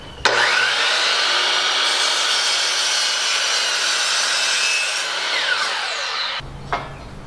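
A power tool cuts a notch into a piece of 2x4 for a welded rack project, a loud, steady whining roar running nearly six seconds before stopping abruptly, followed by a faint clatter.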